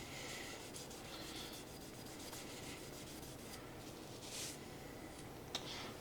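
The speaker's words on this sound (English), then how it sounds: "I'm going to take a microfiber and wipe all this stuff off too" Microfiber cloth wiped over turkey-hunting arrow shafts, a steady close soft rubbing and swishing with a few brighter strokes, with no talk.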